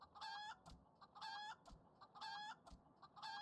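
A chicken in Final Fantasy XIV clucks in repeated rhythmic bursts, roughly one call per second with a soft thump under each, clear and steady with no voices.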